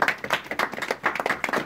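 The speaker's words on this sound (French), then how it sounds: "Alors on les applaudit." A small group of people clap in a brisk, uneven burst of close handclaps that lasts under two seconds, with no talk over it.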